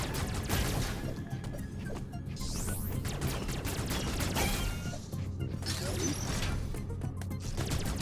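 Missile fire in Metroid Dread, a dense stream of rapid blasts and impacts layered over game music, continuous and busy throughout, with a voice talking over part of it.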